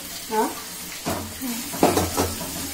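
Chili, ginger and garlic paste sizzles in a pan for a green pea curry, a steady frying hiss broken by a few scraping stirs, with a voice briefly heard over it.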